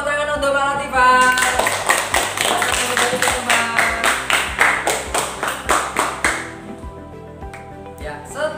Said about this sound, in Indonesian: Tepuk tangan untuk Mbak Latifah